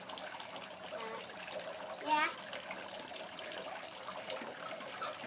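A child splashes and plays with running water from a water fountain, a soft trickling and dribbling under quiet voices, with one brief louder burst midway.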